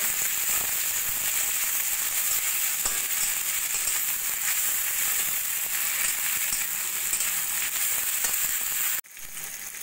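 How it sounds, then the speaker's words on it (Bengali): Onion, potato, cauliflower and tomato frying in a pan, a dense, steady sizzle with faint crackles throughout, cutting off abruptly just before the end. "সব কিছু একটু ভালো করে ভাজা ভাজা করে নেব।"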